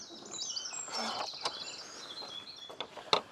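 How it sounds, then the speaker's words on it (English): A cuckoo calls far off across misty Somerset wetlands in the early morning, faint beneath scattered, higher bird chirps and tweets, with no talking. "I can hear a cuckoo in the distance."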